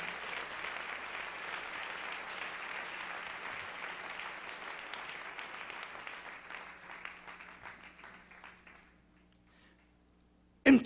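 Applause fills a church during an evening sermon, a dense steady clapping from a congregation that holds for about eight seconds, then thins and fades out into near silence.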